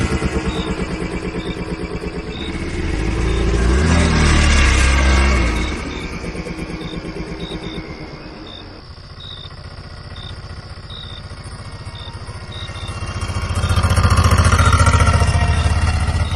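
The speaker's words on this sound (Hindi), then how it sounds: "ऑटो में बैठते ही राजू भाई ने चुपचाप इंजन स्टार्ट किया" An auto-rickshaw engine starts up and drives away at night on deserted roads, a clattering mid-pitched motor that swells loud, eases back, then rises again as it pulls off.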